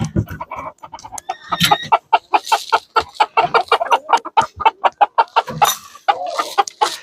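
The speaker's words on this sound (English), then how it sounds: "Silky roosters are probably one of the more talkative roosters that you will have" A Silkie rooster clucks nonstop in rapid, loud bursts close by, a chattering run of short calls with a few brief pauses and a higher squawk near the end.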